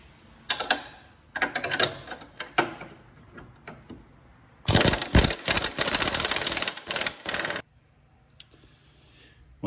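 Wrench working the 18 mm lower retaining bolt on a Mazda Miata during a coilover install, a series of quick metallic clicks and rattles, close, with a denser loud burst in the middle before quieting.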